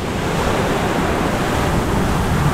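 Indian Ocean surf breaking on a sandy Sri Lankan beach, a steady broadband wash of waves with wind buffeting the microphone, continuous and fairly loud with no voices.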